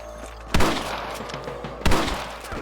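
Two sharp, heavy gunshot cracks from snipers in the Western video game Red Dead, spaced over a second apart against a steady low background rumble, loud and close.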